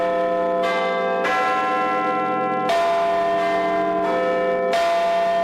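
The Big Ben bell at the Palace of Westminster clock tower chimes in a series of loud, sustained tolls, each strike ringing out with long overlapping decay and no voices.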